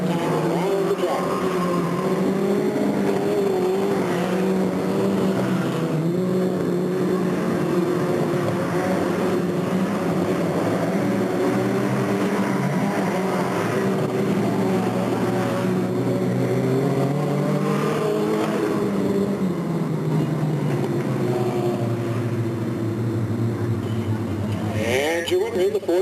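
Race cars at the Delta Speedway in 1996 roar around the track on the final lap, engines rising and falling as they pass, loud and continuous under announcer commentary.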